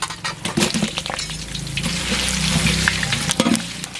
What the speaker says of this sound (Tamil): அது கூட வந்து கருவேப்பிலை சேர்த்துக்கலாம் அது கூடவே பச்சை மிளகாய் சேர்த்துக்கலாம்